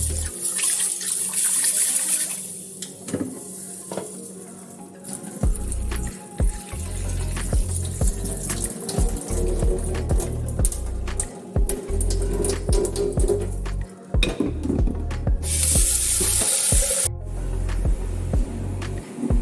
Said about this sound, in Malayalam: ഒരു കപ്പ് പയറെടുത്തിട്ടുണ്ട്. നന്നായിട്ടൊന്ന് കഴുകിയെടുക്കണം.